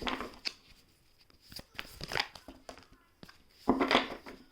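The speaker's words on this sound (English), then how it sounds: "Give it one more shuffle." Tarot card shuffling in a few quick riffling bursts with short pauses between, close and fairly quiet, the last burst the loudest.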